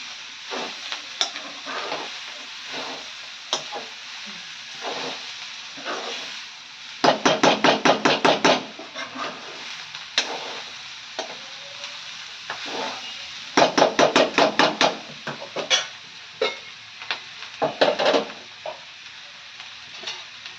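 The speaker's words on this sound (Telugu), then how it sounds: "అల్లం పేస్ట్ వేసుకున్నాక ఇలా మంచిగా కలుపుకోవాలి." Ginger paste stirred into a curry in a pan, with a soft sizzle of frying under repeated bursts of rapid metal scraping and clattering from the spoon against the pan, with short pauses between the bursts and no talking.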